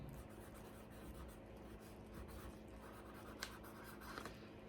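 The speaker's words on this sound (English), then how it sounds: "you're going to write your customer's name" A pen scratches and rubs faintly across a shipping package while an address is written on it, a continuous soft sound with no speech.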